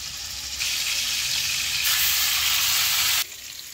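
Beef steak frying in butter in a pan gives a loud, steady sizzle that swells and intensifies partway through, then drops back near the end, with no voices.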